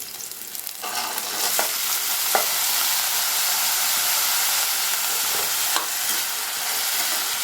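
Brinjal sautés over a medium flame in a pan for chutney, giving a steady, close sizzle broken by occasional scraping clicks as a spoon stirs the pieces.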